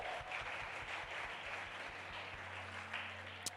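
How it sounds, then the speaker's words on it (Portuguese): Church congregation applauding during a worship service, a steady wash of many hands clapping at moderate level throughout, with a low hum underneath. "Uma salva de palmas para Jesus, amém?"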